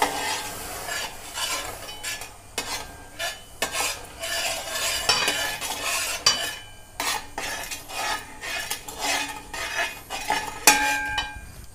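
Finely sieved ayurvedic herbal powder made from bark is stirred in a vessel, giving repeated scraping and clinking spoon strokes in an uneven rhythm, close and fairly loud with no talking.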